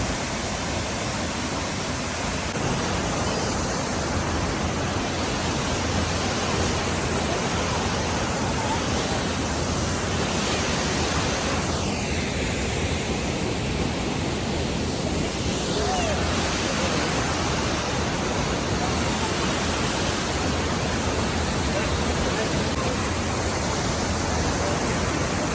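Ain Khor waterfall in Salalah, Oman, gives off a steady, broad rushing roar of falling water that holds without a break from start to end.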